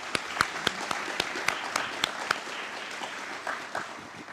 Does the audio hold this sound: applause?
yes